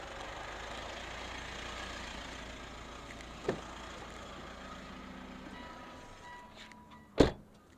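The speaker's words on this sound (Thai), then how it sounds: "เดี๋ยวผมขอปิดเครื่องคันนี้ก่อนครับ" A 2019 Mitsubishi Pajero Sport 2.4 diesel, top trim, idles with a low, fairly quiet rumble that fades out as the engine is shut off, followed by a sharp, loud clunk near the end.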